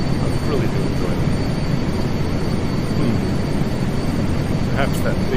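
A Skycrane helicopter's engine and rotor in Microsoft Flight Simulator 2024 make a steady, loud, broadband drone that holds unchanged throughout.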